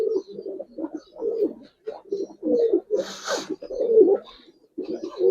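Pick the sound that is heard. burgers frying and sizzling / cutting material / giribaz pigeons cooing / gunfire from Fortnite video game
giribaz pigeons cooing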